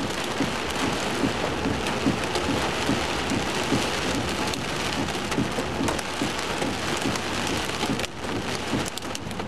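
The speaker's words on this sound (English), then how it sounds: "Hail popping everywhere." Hailstones pop and clatter everywhere during a thunderstorm, a steady, close downpour of hard hits with frequent sharper strikes. It stays loud and even throughout, and no one speaks.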